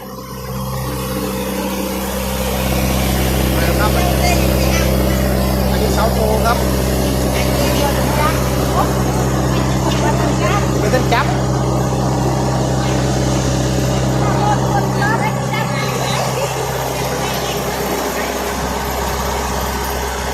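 A low, steady engine rumble runs throughout while people talk over it nearby.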